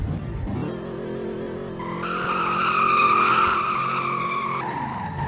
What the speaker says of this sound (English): I honestly question how this truck does such good drifts.